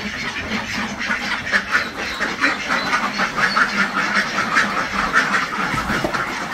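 A crowd of ducks quacking continuously in an enclosure on a duck farm in Dinajpur, Bangladesh, many birds chattering at once in a dense, rhythmic, moderately loud clamour.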